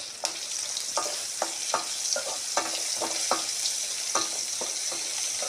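Urad dal frying in a pan: a steady, soft sizzle with a series of short scraping stir strokes at a fairly even rhythm, close and fairly quiet, with no voices.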